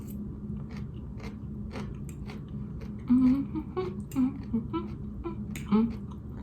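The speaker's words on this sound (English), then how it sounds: "Oh, I'm finally done chewing. That was a big bite." A person chews a big bite of breakfast close to the microphone, soft wet crunching and biting sounds under a low steady hum, louder bites near the end.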